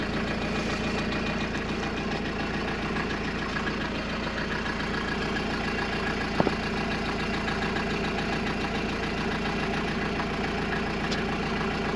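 A Mercedes W201 190D diesel engine idles steadily and evenly throughout, a continuous low mechanical rumble with one brief click near the end.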